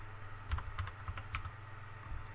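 Quiet, close computer keyboard typing as a terminal install command is entered on a Linux machine, a brief run of irregular soft key clicks over a low steady hum.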